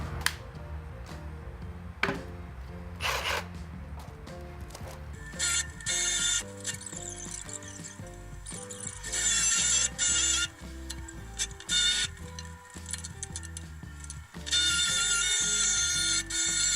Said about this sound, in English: Now I'm just gonna finish it off with the Sawzall.